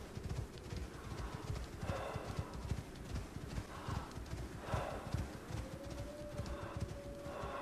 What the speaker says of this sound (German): Okay, dann nehme ich das Pferd.